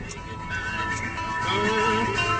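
Music plays steadily through a car stereo, sent from a Jabra Freeway Bluetooth car kit over an FM transmitter, with sustained tonal harmonics and a constant level throughout and no talking.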